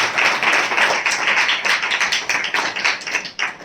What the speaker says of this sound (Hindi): हम जोरदार तालियों से उनका स्वागत करते हैं।